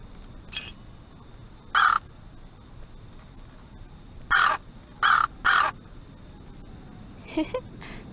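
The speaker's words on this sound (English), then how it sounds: "Not too happy about seeing another bird on his roof." A crow-like bird caws on a rooftop in the point-and-click game Anna's Quest, giving several short, loud harsh calls spaced irregularly, two close together, over a quiet ambient background with a faint steady high tone.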